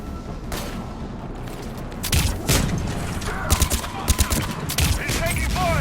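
Rapid gunfire bursts and booming impacts from a firefight in the video game Mass Effect 3, starting sparse and growing into clustered volleys with sharp cracks, mixed with voices and mechanical whirs.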